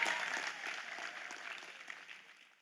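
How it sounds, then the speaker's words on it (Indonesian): A crowd at an Islamic religious lecture claps in a steady, fairly distant patter of applause that slowly tapers off, with no voices standing out. "itu tepuk tangan kan Ton"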